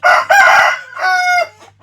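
At a sale of fighting roosters, a rooster crows loudly and close by, a full cock-a-doodle-doo in two strong phrases with no talk over it.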